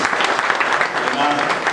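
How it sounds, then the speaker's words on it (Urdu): Audience applause at an Urdu book launch ceremony, a steady dense clapping that fills the whole short stretch at a consistent loud level. "اظہار خیال فرمائیں گے باصر قاسمی کے حوالے سے آپ کی بھرپور تالیوں میں۔"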